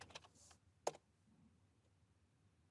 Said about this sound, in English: So let's type in npm install